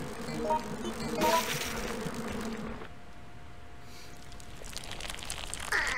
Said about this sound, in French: Qui s'appelle aussi les wasps, même si c'est des abeilles.